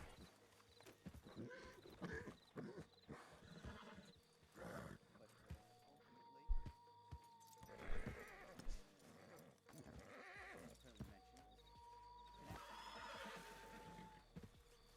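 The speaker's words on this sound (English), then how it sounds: "Calm down, you fucking horse." A horse in the WildRP video game gives repeated loud whinnies and neighs alongside clip-clopping hooves and a few roaring growls. Muffled voices can be heard now and then in the mix.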